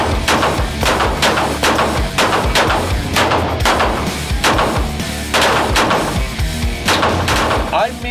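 Guns fired at targets on an outdoor shooting range, including a Ruger Mark II pistol, with a rapid series of sharp, loud shots in uneven volleys and overlapping reports; a voice is faintly audible beneath them.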